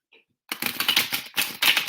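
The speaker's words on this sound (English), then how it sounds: "I feel like I need to give it a little shuffle." Rapid riffling and flicking of tarot cards being shuffled, several quick bursts in a row after a short pause, close and fairly loud.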